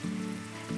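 Butter hitting a hot pan, a brief bright sizzle that flares, eases, then swells again within a moment, close and fairly loud.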